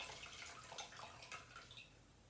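A wet dish sponge is wrung out over a bowl of water, giving soft close trickles and drips of water falling back into the bowl for a couple of seconds.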